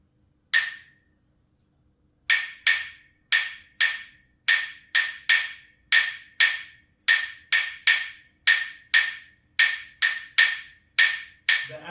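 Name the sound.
clave playing a rumba clave rhythm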